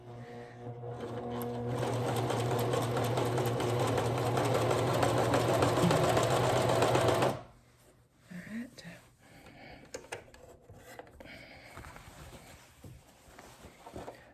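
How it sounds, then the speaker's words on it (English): A vintage Singer sewing machine runs a long steady stitching burst on ripped denim jeans, loud and close with a droning hum and rapid needle clatter, then stops abruptly, leaving quiet room noise and brief talk. "I'm done sewing"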